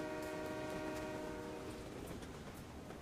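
Train rolling along tracks in the video game West of Loathing, a loud continuous rumble with steady rattling and clacking beneath sustained tonal horn-like harmonics, no talking.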